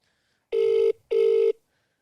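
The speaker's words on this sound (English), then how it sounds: "We'll give him a call, see if he's on the phone." Outgoing telephone ringback tone: two steady electronic ring bursts with a short pause between them, clear and close, with no talk over them.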